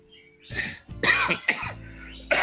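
An older man coughs several times in harsh, throaty bursts during a seminar talk, close to the microphone, with a throat-clearing rasp and no speech between the coughs.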